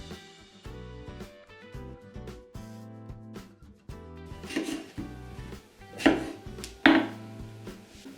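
Knife chopping bananas into strips a few centimetres long on a cutting board for a puff pastry and Nutella dessert, a run of soft, evenly spaced taps close by with light kitchen clatter and music playing underneath.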